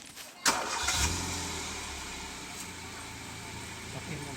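A Hyundai i10 hatchback engine cranks briefly and fires, settling into a steady idle hum close by, with no talking.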